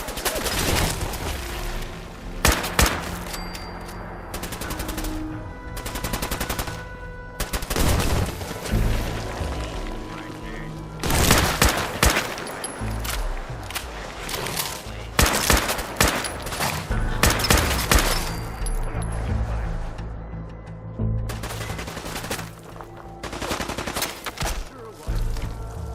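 Fallout 4 gunfire during a Nuka World fight, dense volleys of shots and bursts with booms, loud and continuous with brief pauses, and occasional voices mixed in.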